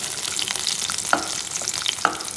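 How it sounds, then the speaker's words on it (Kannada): Garlic and cumin frying in a pan for a traditional sambar base, a loud, dense crackling sizzle throughout with two sharp utensil clinks against the pan. "ಸೊ ಇಲ್ಲಿ ಬೆಳ್ಳುಳ್ಳಿ ಜೊತೆ ಸ್ವಲ್ಪ ಜೀರಿಗೆ ಹಾಕ್ಕೊಂಡು ಫ್ರೈ ಮಾಡ್ಕೊಬೇಕಾಗುತ್ತೆ"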